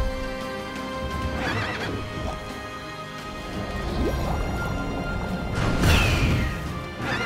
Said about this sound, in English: Why on earth are we fighting a skeleton horse?